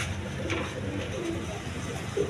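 Pigeons coo in low soft murmurs close by, a few gentle overlapping calls against a faint background.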